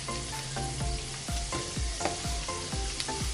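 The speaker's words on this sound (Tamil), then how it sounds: "அது பொறுமையாக அதில் பொரிஞ்சு நல்ல வாசனையாக இருக்கும் நெய்." Moringa leaves frying in homemade ghee give a steady, close sizzle with crackling pops and occasional stirring clatter, no talk.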